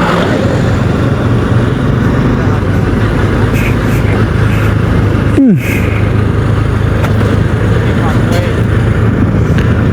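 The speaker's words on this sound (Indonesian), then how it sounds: "Ini ada truk kenceng banget lagi" A fast truck passes on a road in Sumedang during a motorcycle ride, its roar blending into loud constant engine and wind noise, with a brief sweeping whoosh at mid-clip as it goes by.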